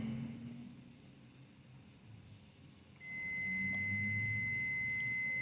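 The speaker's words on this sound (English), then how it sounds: "see how it's beeping?" Continuity tester testing a bad relay pin on a Razor Power Core E95 scooter controller: after a few quiet seconds of faint background, a steady high electronic beep begins and holds to the end.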